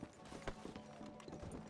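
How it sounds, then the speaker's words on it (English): Hooves of a horse in Red Dead Redemption 2 clip-clop in a quick, uneven galloping rhythm, faint and steady beneath low game ambience with no talking. "I swear, this is the horse from Zorro."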